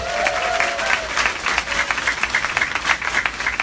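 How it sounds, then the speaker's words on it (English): A conference audience at a Venice, Florida event breaks into steady applause, a dense crackle of many hands clapping close by, with a brief voice tone near the start. "let's give her a round of applause"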